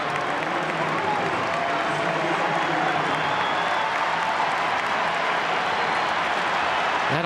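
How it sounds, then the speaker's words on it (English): A stadium crowd at an Argentina vs Chile football match, broad sustained applause and clapping filling the whole span at steady volume, with a faint murmur of commentary underneath. "That applause is to welcome Lautaro Martinez and Angel Di Maria."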